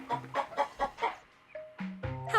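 A chicken gives a quick run of short, close clucks followed by a couple of drawn-out, higher calls, all within a few seconds and with no other sound.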